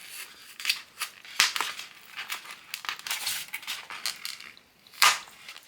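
A glued-in stem is pried and pulled off a Dollar Tree fabric pumpkin, producing close, sharp crinkling, snipping and tearing bursts in an irregular series.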